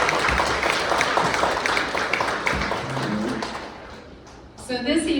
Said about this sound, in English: I would like to give her a round of applause for her dedication